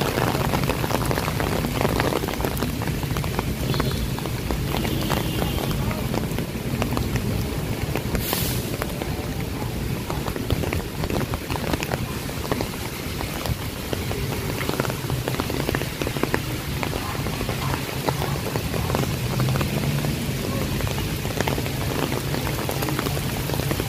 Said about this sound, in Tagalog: naubutan tayo ng ulan